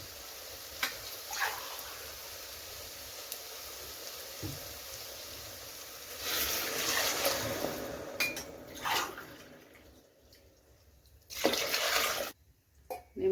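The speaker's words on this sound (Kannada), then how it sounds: "ಅದರಲ್ಲಿ 2 ಲೋಟ ನೀರನ್ನ ಸೇರಿಸ್ತೀನಿ." Water is poured into a pot of rice for vangibath in a home kitchen, heard as several splashing pours between clinks of metal vessels and utensils, fairly quiet with short silent gaps.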